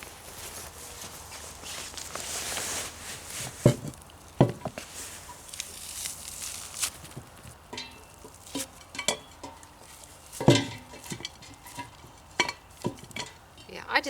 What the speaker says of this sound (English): Put this in a pot.